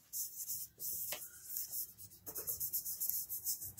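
Soft rubbing on artwork to blend and soften hard lines, a steady close dry rasping texture with a few brief strokes standing out, no voices.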